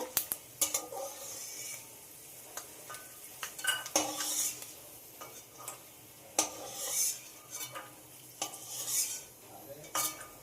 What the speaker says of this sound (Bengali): এই বাদামটা কাঁচা ছিল বলে বাদামগুলোকে ভেজে নিচ্ছি